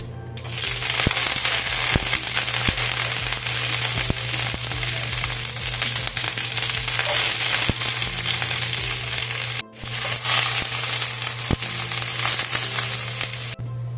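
Mustard seeds, onion and curry leaves crackle loudly in hot coconut oil, a dense continuous sizzle with sharp popping spits and one brief pause.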